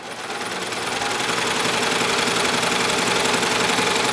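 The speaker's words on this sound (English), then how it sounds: "I'm going to make a spaghetti strap by stitching a tube with the tricot" A Baby Lock Evolution serger runs fast and continuous while stitching a tube of tricot into a spaghetti strap, a loud, even mechanical whir with rapid needle chatter that builds up from the start and then holds steady.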